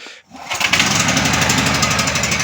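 Small petrol engine of a home backup generator keeps running after a cold-weather start, a steady loud buzzing drone with a rapid rhythmic chatter, close by and alone after a short quiet moment at the start.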